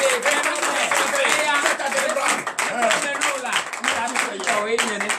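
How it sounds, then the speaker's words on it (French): A congregation at a morning prayer service in Benin clapping in acclamation, a steady dense clapping alongside singing and voices throughout. "Donne l'acclamation à Jésus."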